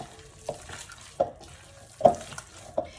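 Eggs being stirred into cheese bread dough for Goiás-style pão de queijo, a few soft wet slaps and scrapes recurring irregularly, close and fairly quiet, with no talking.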